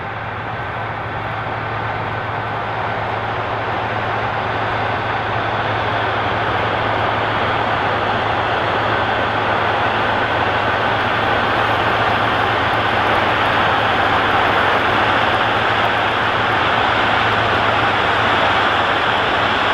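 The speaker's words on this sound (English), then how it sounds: "It's a cool tractor and tillage moment to see working out in the field." A John Deere 9RX 640 wide-track tractor working fall tillage in a field gives a steady, loud engine drone with a low hum, continuous and unbroken throughout.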